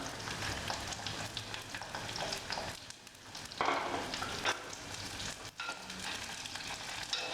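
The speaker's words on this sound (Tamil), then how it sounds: "இதுவும் நல்லா செவந்து வர வரைக்கும் நல்லா வதக்கி விட்ருங்க" Onions and curry leaves sauté in a pan for a garlic pepper curry, giving a steady, close frying sizzle with stirring scrapes and a brief quieter dip midway.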